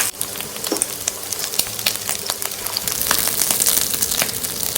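Pork belly pieces fry on low heat in a pan, giving a close, steady sizzle with scattered pops and crackles throughout.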